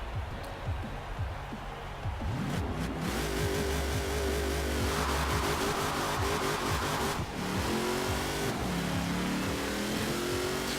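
Race engine of a 1300+ horsepower engine-swapped Chevy Monte Carlo in the Forza Horizon 4 video game, revving hard and roaring on a drag strip with tire spin, loud and continuous throughout the whole stretch.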